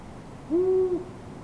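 A single owl hoot, a smooth, steady low tone lasting about half a second, clear and fairly close over quiet background hiss.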